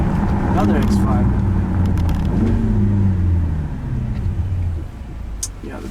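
A 575 HP BMW X5M F85 downshifts while driving through city streets in Stockholm, its deep engine rumble and revving close and loud, with a person talking over it.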